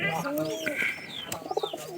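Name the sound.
pigeons cooing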